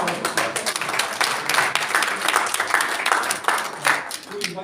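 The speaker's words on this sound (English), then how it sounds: "Can you give them a round of applause?" Brief applause from a team-building group in a Melbourne room, scattered claps over a steady crowd wash lasting a few seconds with voices mixed in.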